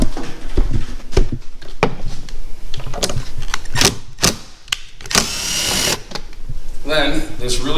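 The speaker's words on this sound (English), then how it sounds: "We're going to take this bolt out real quick." A power tool backs out a mirror bolt on a new Ford Bronco during a light install. It runs in several short, loud bursts with someone talking between them.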